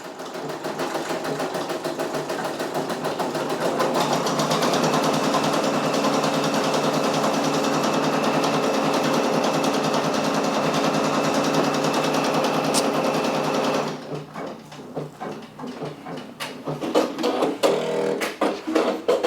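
A Brother Persona embroidery machine sews with white thread, producing a rapid, steady, close mechanical rattle for about fourteen seconds, then slower, irregular stitching clicks with pauses.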